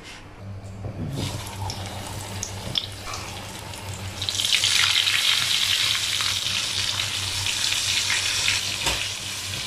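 Lemon peel frying in hot oil sets off a steady, loud, close sizzle that swells after a few seconds and holds, with a few faint knocks at the start.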